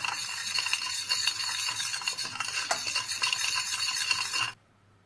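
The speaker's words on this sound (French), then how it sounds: "on va venir faire fondre, donc dissoudre le sucre, le sel dans le vinaigre" A spoon scrapes and clinks steadily in a bowl, stirring sugar and salt into rice vinegar for sushi rice seasoning, then stops abruptly.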